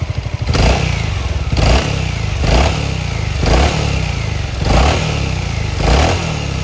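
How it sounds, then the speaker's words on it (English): Nearby idle of a Honda Forza 350 scooter engine, punctuated by five regular throttle blips that rise and settle roughly every second or so, with no speech over it. "finally the Forza"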